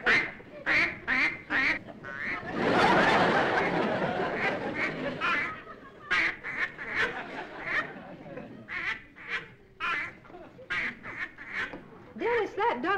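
A duck quacks repeatedly in short, loud bursts, with a stretch of louder mixed noise in the middle. People talk around the quacking in a sitcom household scene.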